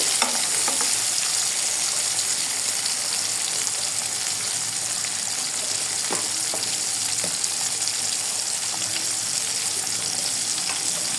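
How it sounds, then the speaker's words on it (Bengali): Shrimp fry in a pan with turmeric and salt, giving a loud, constant sizzle broken by scattered crackles and pops, recorded up close with no talking. "দেখো, চিংড়ি মাছগুলোকে আমি হলুদ লবণ দিয়ে একটু ভেজে নিচ্ছি"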